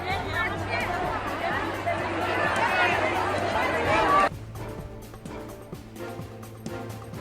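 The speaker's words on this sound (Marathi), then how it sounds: "पुण्यातल्या पाटील इस्टेट परिसरात नागरिकांची मोठी गर्दी." A large crowd of citizens gathered at Patil Estate in Pune, with a dense hubbub of chatter and shouting voices that is loud at first, then drops abruptly to a quieter background murmur.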